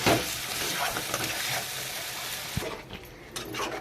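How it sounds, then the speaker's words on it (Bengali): Fried eggs and potatoes are stirred into spice paste in a pan for mutton curry, with a dense close sizzle and repeated scraping stirs that thin out near the end, where a few louder clinks stand out. No one talks. "তারপরে দিয়ে দিচ্ছি ভেজে রাখা ডিম আর আলুটা দিয়েও ভালো করে আবারও কষে নিতে হবে"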